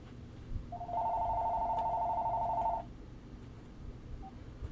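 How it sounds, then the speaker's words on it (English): A telephone rings once with a steady electronic two-tone trill lasting about two seconds, moderately loud over low room noise, followed by a tiny faint blip. "that phone's ringing twice"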